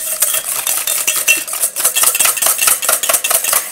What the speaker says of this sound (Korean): 계란과 버터가 잘 섞일 수 있게 저어주세요